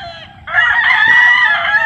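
A young rooster (stag) crows once nearby, a loud strained call lasting over a second, with faint background noise and no talk.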